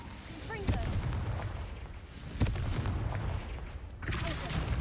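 A Confringo blasting spell in Hogwarts Legacy goes off with sharp booming blasts, two strong hits and a third near the end, over a constant rumbling game background with faint voices.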